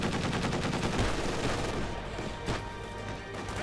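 Dense gunfire from Company of Heroes 2 with Panther tanks in play: a sustained crackling volley of shots and bursts, loud and continuous, easing slightly toward the end with a few heavier impacts.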